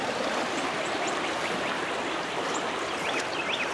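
Creek water flows steadily in a spring garden setting, a continuous broadband rush with faint bird chirps on top, constant level and no talking.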